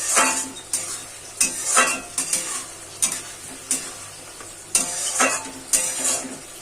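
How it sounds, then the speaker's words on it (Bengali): Spoon stirring water into cooked-down spice paste in a pan for katla fish curry, with repeated scraping strokes in an uneven rhythm over a light sizzle, close and moderately loud. "জলটা দিয়ে ভালো মতো একটু মশলার সঙ্গে মিশিয়ে দিচ্ছি।"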